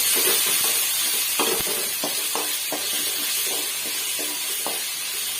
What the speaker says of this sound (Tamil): வெங்காயம், தேங்காய், பூண்டு போட்டு நல்லா இது வதக்கலாம்.